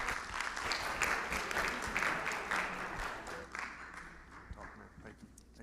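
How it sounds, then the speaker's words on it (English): A medical meeting audience applauds a speaker, with sustained clapping that gradually thins and fades toward the end. "Let's give one more round of applause for the great Dr."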